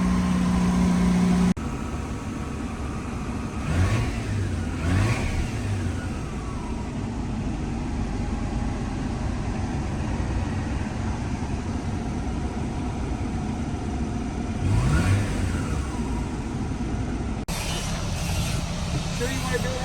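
A turbocharged LSX V8 swapped into a Mazda RX8 runs steadily after a long crank, its rumbling idle broken by a couple of sharp revs that rise and fall, loud and close throughout.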